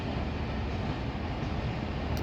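A train pulling slowly into London Victoria station gives a steady, broad rumble of rolling stock that stays even and moderately loud throughout, with no voices over it.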